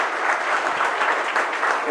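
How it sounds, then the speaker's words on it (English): An awards ceremony audience claps in dense, sustained applause, loud and even throughout the short stretch. "Can we have a round of applause for Rohit Chawla?"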